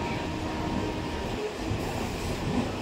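Steady, loud rumble and rattle of a moving passenger train heard from inside a carriage, with continuous wheel and track noise and faint squeals.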